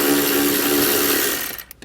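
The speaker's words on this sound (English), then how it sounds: "We're gonna use a T30 Torx socket to remove this." A power tool spins a T30 Torx socket to back out a bolt on a 2016 Mercedes-Benz GLE, a loud close whirring burst that winds down with a few clicks at the end.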